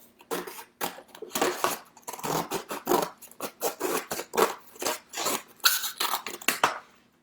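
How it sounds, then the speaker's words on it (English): Repeated rhythmic snips and crunching of scissors cutting down the middle of a paper plate, close up, in steady strokes with no talking. "we're just going to take our scissors and cut right down the middle"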